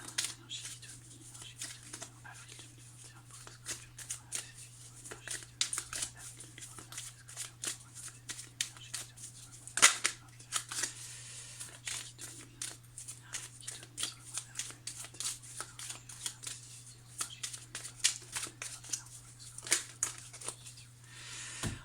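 Tarot cards being shuffled in a steady run of soft riffling and slapping bursts for about twenty seconds, close and fairly quiet over a constant low hum, with no talking.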